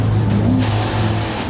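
A BMW M5 drifting during a world-record attempt for the longest drift, its engine holding a loud, steady, close-up roar with slight pitch shifts and no pauses.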